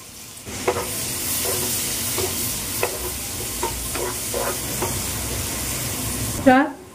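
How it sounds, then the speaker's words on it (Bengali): Onions fry in hot oil in a pan that already holds cardamom, cloves and cinnamon, giving a steady, close sizzle while a utensil scrapes and stirs at intervals. "এই দেখো পেঁয়াজটা আমার ভাজা ভাজা হয়ে এসছে"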